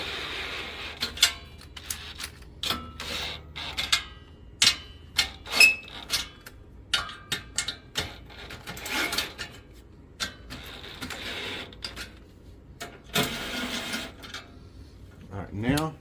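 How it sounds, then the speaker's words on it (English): A ratchet and socket work bolts while an inverter and battery are mounted on a wall, producing bursts of sharp clicks and knocks with pauses between them and a rapid clicking run near the end, with some talk mixed in. "I'm going to use my ratchet with the socket here in a minute."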